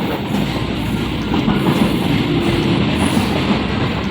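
A Namkhana local train rolls into a platform with a steady, loud low rumble and rattling wheels, continuous throughout with no voices.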